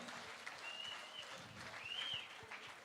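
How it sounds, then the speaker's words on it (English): Applause for a winning Sri Lanka T20 World Cup cricket team after a warm-up game in Melbourne, a steady, moderately loud patter of clapping for about three seconds with some faint whistle-like tones above it. "let's give a big round of applause to the winners"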